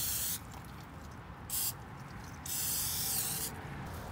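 Short hissing bursts of a spray bottle aimed at a hognose snake stuck in a glue trap, several quick sprays of uneven length over a low rumbling background, with no talking.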